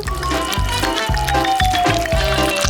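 Waffle batter is poured into a waffle maker, giving a close, steady liquid pouring sound with repeated gurgling pulses and no talking.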